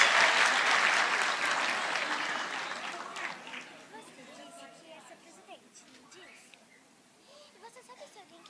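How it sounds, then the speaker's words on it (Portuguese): Audience applause at a live talk in Curitiba, loud clapping from a large crowd for the first three seconds, then fading into scattered claps and crowd murmur. "Salva de palmas."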